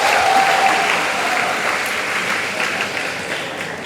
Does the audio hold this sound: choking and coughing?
no